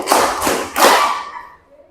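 A group claps a short tepuk lima rhythm together during a teacher coaching session, making a few loud, close, sharp bursts of handclaps that fade quickly into quiet.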